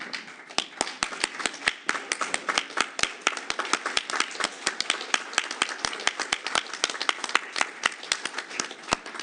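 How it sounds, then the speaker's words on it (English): Audience at a city council meeting claps in a standing ovation, a dense run of sharp, distinct handclaps that holds steady for several seconds at moderate distance, with no one talking over it. "I think we stand up and applaud them"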